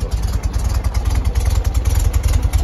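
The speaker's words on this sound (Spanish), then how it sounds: "Escuchen ustedes qué bonito sonido del escape." A 1973 Volkswagen engine runs with its exhaust close and loud, giving a steady, low, rapid pulsing putter with slight clatter and no talk.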